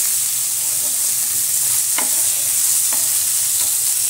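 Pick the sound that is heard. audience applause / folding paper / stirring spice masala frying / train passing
stirring spice masala frying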